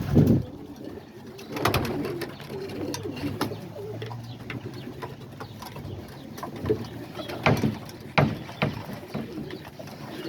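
Homing and roller pigeons cooing inside a flying loft: soft repeated low coos from several birds nearby, with occasional wing flutters and knocks, no talk.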